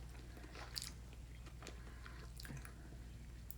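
Someone bites into a crunchy Reese's peanut butter cup and chews it up close, giving faint crunches and soft, moist mastication sounds with no talking.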